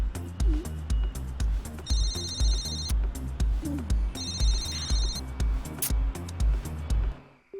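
A phone rings twice in short bursts of bright electronic trilling, each lasting about a second, over a pounding, rhythmic music beat.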